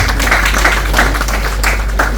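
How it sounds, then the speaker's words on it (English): An audience at a 65th birthday celebration claps for an honored guest, a dense, loud, even patter of applause that holds steady from start to finish over a low hum. "Can we please give him a round of applause?"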